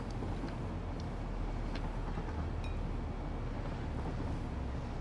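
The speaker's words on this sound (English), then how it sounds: "Let the train go by." A passing train heard as a steady, low, broad rumble that holds evenly throughout, with faint higher rattles on top and no talk.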